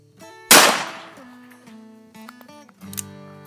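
A single loud .357 Magnum gunshot cracks out on an open hunting field in Texas, followed by a decaying echo, then faint voices and small handling noises close by.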